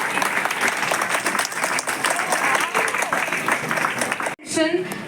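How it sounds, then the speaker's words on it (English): Large crowd applauding at a school Model United Nations closing ceremony, dense sustained clapping for over four seconds that cuts off abruptly, followed by a brief burst of voices. "Please stand up on your seats and give them a huge round of applause."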